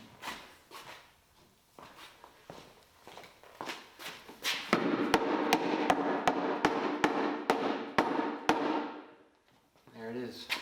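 Metal hammer strikes ring out on a homemade wagon build, first scattered and uneven, then a fast steady run of sharp, loud blows, with a voice talking briefly at the end.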